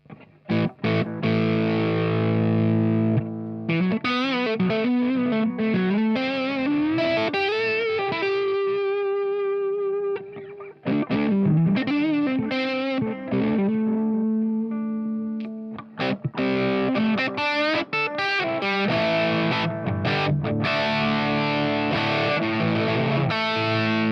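A distorted, effects-laden bass line from a Telecaster Thinline guitar played through an HBE Detox EQ pedal, gritty sustained notes with slides and a brief pause midway.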